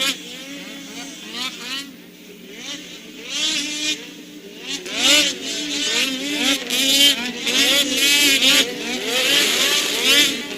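Snowmobiles racing the last lap of a Pro-class event at the 2019 Ski-doo Grand Prix de Valcourt, engines whining and rising in pitch as they pass, loud and continuous under an excited commentator talking throughout.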